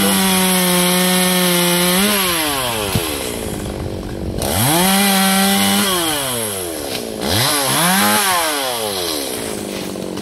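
A G4200 chainsaw cuts into a golden wattle tree, the engine close and loud as it revs up and bogs down through three long cutting bursts, each dropping to idle between passes.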